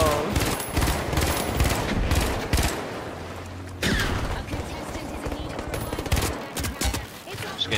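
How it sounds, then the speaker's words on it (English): Bursts of gunfire rake the player from behind in The Finals, rapid cracks in uneven volleys with a short lull midway, while voices talk over the shooting. "Getting shot in the back."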